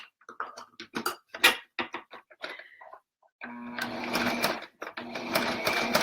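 A sewing machine zigzag stitching over the raw edge of a fabric burp cloth, rapid rhythmic stitching in two bursts after several short taps and handling clicks.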